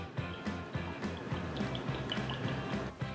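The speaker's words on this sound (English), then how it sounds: "Just plain old olive oil in one of these." Olive oil poured into a small bowl makes a steady close liquid trickle, broken by soft rhythmic glugging drips throughout, with no voices.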